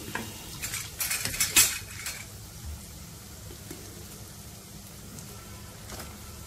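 Salt, red chili powder and turmeric fry in a pan over a low flame for qubooli biryani. Clattering spoon-on-pan scrapes come in a burst early, then fade into a quiet, steady sizzle.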